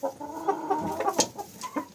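Several chickens cluck and a rooster calls close by in a busy, overlapping flurry of short notes, with no voices.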